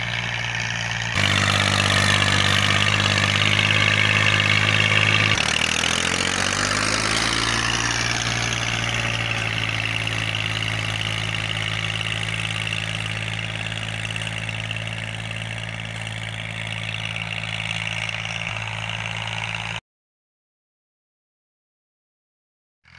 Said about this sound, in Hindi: मैं ट्रैक्टर पे बैठ के आपको हल चलाते हुए दिखाता हूँ।